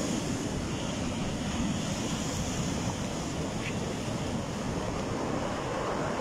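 Rough, stormy sea surges against the shoreline at Casablanca beside the Hassan II Mosque, producing a loud, unbroken roar of surf mixed with heavy wind rumble.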